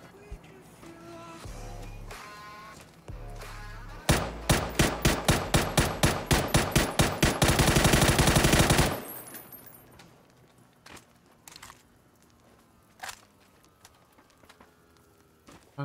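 Rapid bursts of gunfire in the battle royale game PUBG: a loud, fast string of evenly spaced shots, then a dense sustained volley, followed by quieter scattered sounds.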